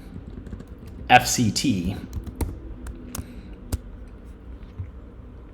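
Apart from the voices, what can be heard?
typing on a computer keyboard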